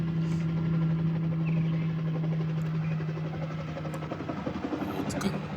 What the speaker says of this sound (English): Oh, a chopper.